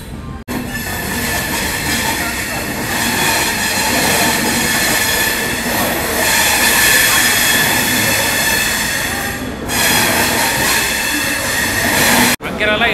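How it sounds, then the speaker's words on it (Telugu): Coromandel Express 12841 rolling on a gentle curve onto platform 1 at Vijayawada, a loud, steady close rumble of wheels and cars with rising squeal from about 6 to 9 seconds, continuous for roughly twelve seconds before cutting off. "అలా తీసుకుంటూ ప్లాట్ఫామ్ నెంబర్ 1 మీదకి వెళ్తుంది అనమాట మన కోరమండల్ ఎక్స్ప్రెస్"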